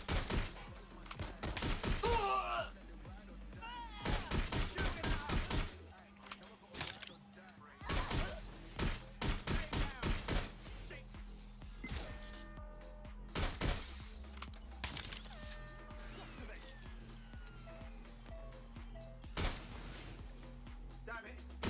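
Gunfire in the Watch Dogs Legion video game comes as sharp shots in clusters and quick bursts, separated by quieter gaps with ambient hum.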